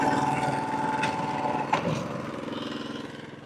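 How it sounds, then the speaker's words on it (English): A running lawn mower engine drones steadily nearby, fading slightly toward the end, mowing a lawn after verticutting. "I'll start mowing on this side over here."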